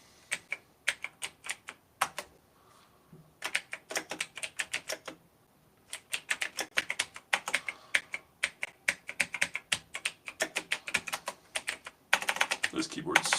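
Rapid bursts of typing on a computer keyboard, clicky and close, come in uneven runs with short pauses, ending in a denser flurry of keystrokes.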